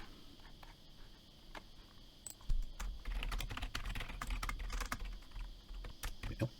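Code being typed on a computer keyboard: quiet, scattered key taps at first, then a denser run of close clicking and clattering with faint room hiss underneath.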